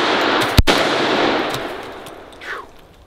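One sharp, loud rifle shot from a Chinese AK cracks out at an outdoor range, followed by a long rolling echo and a faint second report that fades away.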